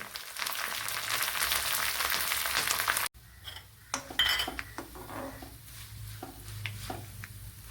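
Cut dried red chillies and curry leaves go into hot oil: a steady hissing sizzle cuts off abruptly, then pan clatter and spoon scraping with lighter frying underneath, close and fairly loud.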